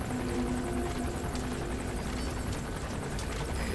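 A helicopter in the Metal Gear Solid V video game drones with a loud, steady rotor thrum close overhead, continuous throughout with no speech.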